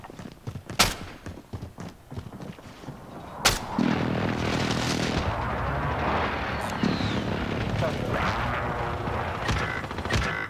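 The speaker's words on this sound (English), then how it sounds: "Enemy precision airstrike" Precision airstrike explosions in Call of Duty Warzone on Rebirth Island: sharp cracks and gunfire give way to a sustained roaring barrage of blasts and rumbling debris, loud and close.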